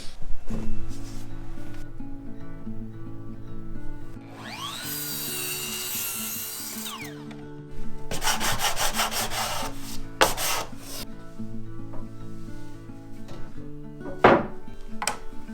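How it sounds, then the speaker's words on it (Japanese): A carpenter cuts a wooden floorboard while repairing the badly warped floor of a 40-year-old house. The wood rasps and scrapes loudly at close range in several distinct bursts, with short sharp knocks between them. "では板を切っていきます。"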